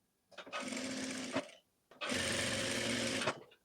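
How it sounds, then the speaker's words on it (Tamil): Sewing machine running fast while stitching a blouse hem, two close, loud bursts of steady whirring stitching separated by a short pause, with no one talking. "ஹெம்மிங் பண்ணுற மாதிரி ஸ்டிச் பண்ணுறோம் பாருங்கள்"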